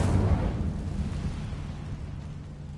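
Incendio fire spell cast in Hogwarts Legacy, a deep booming fiery burst that hits at once and then rumbles and fades over a couple of seconds, standing alone without talk.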